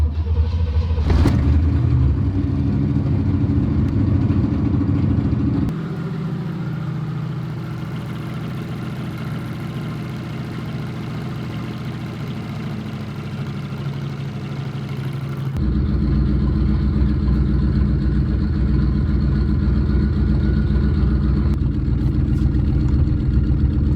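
Turbocharged C4 Corvette on its first drive, a steady engine drone and rumble throughout, easing off briefly in the middle before rising again with a heavier low roar, no talking.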